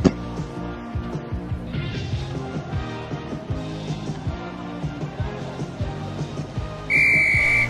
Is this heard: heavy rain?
no